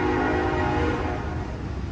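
A train horn sounds on the parallel BNSF Southern Transcon line across a canal near Lockport, Illinois, a steady sustained blast mixed with rumbling rail noise, loud and continuous throughout.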